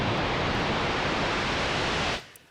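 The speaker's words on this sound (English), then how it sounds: "And you can create white noise if you want." White noise from a Novation Summit synthesizer, a loud, steady hiss filling the whole range that holds evenly and then cuts off abruptly near the end.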